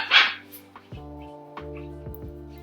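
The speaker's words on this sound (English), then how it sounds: "Y'all may not want to talk to me today with all this noise going on here with the puppies" Parson Russell terrier puppies give a sharp, loud yip up close, then several softer whimpering barks and whines follow at an uneven pace.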